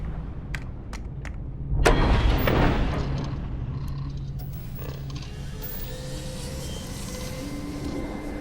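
A Starfield spaceship's grav drive engages with a loud broadband whoosh swelling near the two-second mark. A steady low mechanical hum and faint clicks follow, with no one speaking.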